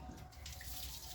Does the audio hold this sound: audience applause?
no